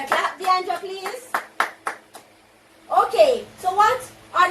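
A classroom claps for a student after a presentation on angles of elevation and depression, with short bursts of clapping alternating with teacher and student voices talking close by.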